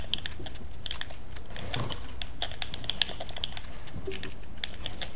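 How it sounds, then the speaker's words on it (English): Rapid clicking of keyboard buttons during a Fortnite game, crisp and close. The taps come in uneven bursts with faint mechanical clatter and no talk over them. "I can literally hear the clicking of your buttons."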